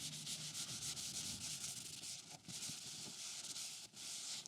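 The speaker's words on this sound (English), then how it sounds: "I'm going to spread a bit of wax on this box and then I'm going to buff it out just slightly." Wax being buffed onto a red elm wooden box makes a close, steady, rasping rub, brisk back-and-forth strokes with a few brief pauses, and no one speaking.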